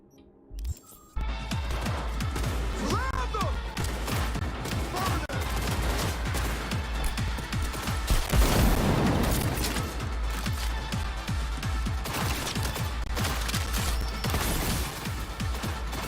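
Dense, continuous game combat in Cyberpunk 2077, with a frag grenade blast among sustained gunfire bursts and crashing impacts, loud and busy throughout after a brief quiet start.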